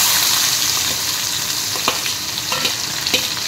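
Onions fry in a pan of oil after fish has been fried for a fish curry with banana stem, giving a steady bright sizzle with scraping stirs and a few small pops.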